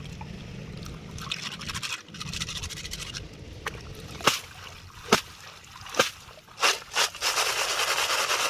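Snails being gathered by hand from a pond: wet scraping and light splashes, with sharp sloshing bursts toward the end, close to the listener over a low background rumble.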